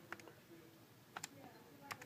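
Quick plastic key presses on a calculator while an equation is entered, a few short clustered clicks spread over two seconds, close and soft, with a faint voice in the background.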